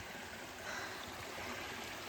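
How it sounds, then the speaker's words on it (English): Small water source trickling along the Appalachian Trail near the Mahoosuc climb, a steady, soft, hissing flow of running water that is continuous and fairly faint, with no voices. "it's a cute little water source"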